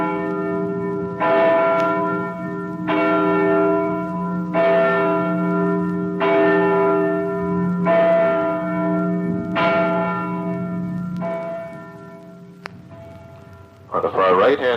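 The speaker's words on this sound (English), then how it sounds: "The King's Chapel bell may be heard throughout the entire neighborhood." The King's Chapel church bell in Boston, cast by Paul Revere, tolls about eight evenly spaced, ringing strokes with long overlapping hums, loud and steady, before a voice begins at the end.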